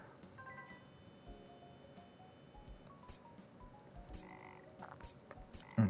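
Frog croaks in the game Legends of Idleon amid chiming game tones and soft clicks, a few faint, short croaks over quiet background sounds.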